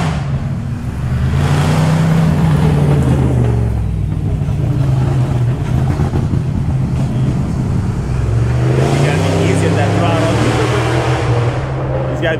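A truck race car engine in Hill Climb Racing 2, a loud droning motor that rises and falls in pitch as the throttle changes, running continuously with a person talking over it.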